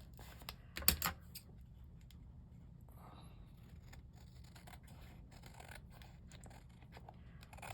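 Scissors trimming excess card paper, with a distinct snip near the start followed by a run of soft, quick clicking cuts and light paper rustle, faint and close up.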